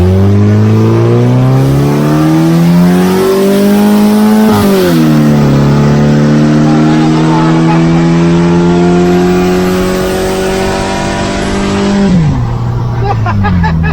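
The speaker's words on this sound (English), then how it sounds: "Just put it in drive." A Volkswagen Beetle being test-driven after alignment revs loudly near at hand, engine tone rising through gears with shifts around four and twelve seconds, steady and continuous with no other sound over it.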